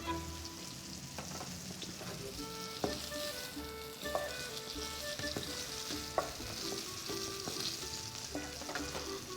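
Lamb shank fries in hot oil with a continuous close sizzle, broken by occasional sharp pops and clinks of stirring, with no voices.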